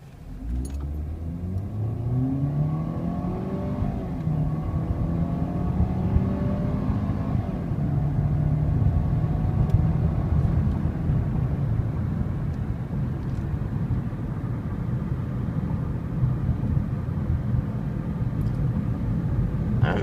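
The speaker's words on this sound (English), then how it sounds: "we're going to do a little acceleration run here. A little quick 0 to 60" A 2013 Ford Fusion 2.5 SE accelerates hard from 0 to 60, its engine note climbing steadily through the gears, with an audible shift partway through before a sustained, droning pull continues to the end.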